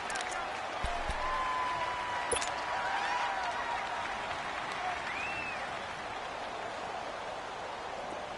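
Crowd at Arrowhead stadium in a PS4 football video game, a steady roar of cheering and applause that fills the whole stretch, with a commentator's voice over it.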